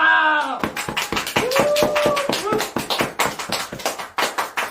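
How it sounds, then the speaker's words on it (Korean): Clapping for the national curling team: sharp, close hand claps in a quick, uneven rhythm, some of them doubled, follow a brief burst of speech and continue for several seconds. "우리 국가대표 컬링 선수님들에게 박수를 꼭 보내주십시오. 자 여러분 박수!"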